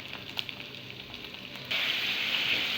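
Chicken frying in a pan with chopped ginger, a close sizzling crackle that suddenly swells into a louder, brighter hiss about halfway through, with no speech.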